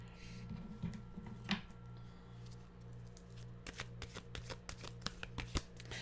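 A deck of animal oracle cards shuffled close up: a soft card riffle early on, then a quick run of crisp flicks and snaps, quiet, over a low steady hum.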